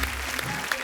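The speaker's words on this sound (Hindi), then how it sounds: "तो आप सबकी जोरदार तालियों के बीच में इनवाइट करना चाहूंगा" A studio audience on a Republic Day episode of a comedy talk show claps to welcome arriving guests, a fairly faint, steady wash of applause with no clear voices.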